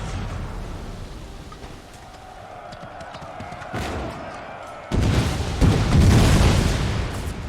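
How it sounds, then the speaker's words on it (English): Grenade blasts in Empire: Total War ring out amid steady battlefield rumble, with a sharper burst near four seconds and a louder, sustained eruption of explosions from about five seconds onward. "We're gonna do some groovy grenade stuff."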